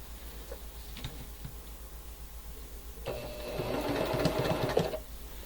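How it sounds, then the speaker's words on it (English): A domestic sewing machine stitches quilt fabric rectangles, corner to corner, a soft ticking start giving way to a steady, louder mechanical whir for the last couple of seconds, with no talking. "I'm going to sew from the top corner to the bottom corner"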